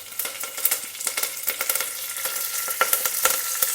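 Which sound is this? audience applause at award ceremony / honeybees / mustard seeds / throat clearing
mustard seeds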